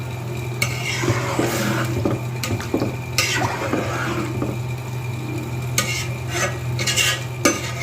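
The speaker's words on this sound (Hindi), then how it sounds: "अब इसे मिक्स कर लेंगे दोबारा।" A spoon stirs chana pulao rice in a metal pot, scraping and clinking against the sides in an irregular rhythm over a soft simmering sizzle, close and fairly loud.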